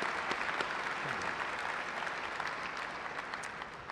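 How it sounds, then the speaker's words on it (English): Audience applause at a university fall commencement ceremony, a steady wash of many hands clapping from a large crowd, fairly distant and sustained throughout. "Let's recognize these friends with an applause"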